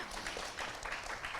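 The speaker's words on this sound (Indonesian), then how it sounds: "kita beri tepuk tangan" Short burst of audience applause at a SUN Indonesia annual meeting session, a dense steady patter of many hands clapping at moderate level throughout.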